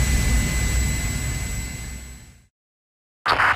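Steady roar of an airplane engine in a Project IGI video game cutscene, loud and broadband with a high whine, fading out to silence before a brief burst returns at the end.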